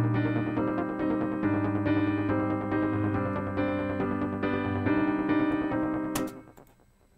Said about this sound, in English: let's try to just put one of the keyboards that I already put in here. It's an arpeggio